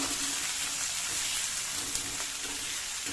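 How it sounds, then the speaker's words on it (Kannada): Chopped onions with ginger garlic paste frying in a pan, giving an even, dense sizzling hiss with faint stirring scrapes underneath, steady and close throughout. "ಮಿಕ್ಸ್ ಮಾಡ್ಕೊಂಡು ಇದು ಚೆನ್ನಾಗಿ ಫ್ರೈ ಮಾಡ್ಕೊಳ್ಳಿ"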